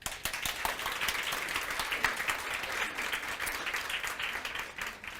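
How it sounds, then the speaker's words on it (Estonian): Audience applause after an Estonian-language presentation, many hands clapping in a lively, uneven patter that swells and continues without talk. "Teeme aplausi."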